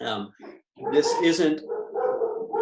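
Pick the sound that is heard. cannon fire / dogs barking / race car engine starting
dogs barking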